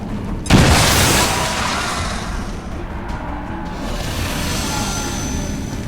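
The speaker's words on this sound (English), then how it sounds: "Grenade out!" A grenade blast in the XCOM 2 video game, one sudden loud boom followed by a long roaring, crackling tail of debris and rumble that fades slowly, with no other sound over it.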